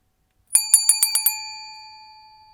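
A bicycle bell is rung rapidly about six times in a quick burst, loud and near, its metallic ring lingering and fading afterward.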